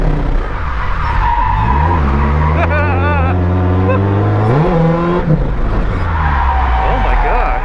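A 1986 Toyota Corolla AE86 drifts across a slick, puddled wet track, its engine note rising and falling in loud sweeping revs while tires skid and squeal, with voices talking over the car noise.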